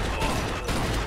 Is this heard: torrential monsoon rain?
no